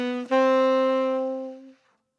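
A short jazz lick, heard as a single bright sustained tone with rich harmonics after a quick attack, ringing for about a second and a half before fading out.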